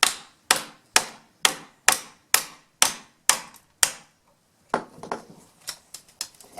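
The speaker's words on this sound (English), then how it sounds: "putting a screwdriver along the cracks and then hitting it with a hammer" Eight sharp, evenly spaced hammer blows ring out on a screwdriver driven into a cheap speaker casing's cracks, followed by a looser cluster of lighter, irregular taps and knocks.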